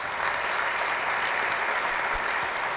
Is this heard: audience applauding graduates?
yes